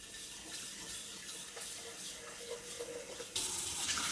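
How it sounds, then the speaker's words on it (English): Water runs steadily into an electric Cosori kettle during descaling, a continuous close hiss of pouring that grows louder and brighter near the end as the kettle fills. "So now I'm just going to add some water"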